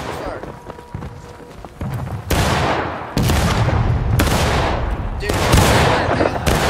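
A volley of musket-style gunfire in a large multiplayer battle game, several loud crashing rounds of massed shots following one another, with voices talking underneath.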